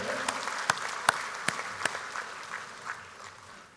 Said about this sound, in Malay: Tepukan gemuruh untuk yang berada di bahagian-bahagian.